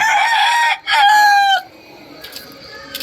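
Boston bloodline gamefowl rooster at a farm crowing loud and close in one long drawn-out call, broken briefly in the middle, then quiet with faint background noise.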